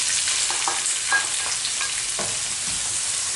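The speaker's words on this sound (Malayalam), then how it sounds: "അണ്ടിപ്പരിപ്പ് ഒന്ന് മൂത്ത് വരുമ്പോൾ അതിലേക്ക് മുന്തിരി ഇട്ട് കൊടുക്കുക" Cashews and raisins frying in oil in a pan for Kerala-style chicken biryani, a continuous loud sizzle with occasional stirring scrapes and small pops, no talking.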